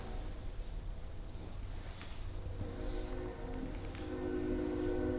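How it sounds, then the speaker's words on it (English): Trains rumbling past overhead, heard from the basement of a Masonic temple, a steady low droning roar with faint horn-like tones and light clanks throughout. "Trains are a lot louder down here."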